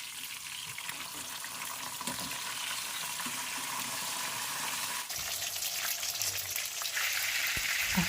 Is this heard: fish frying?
yes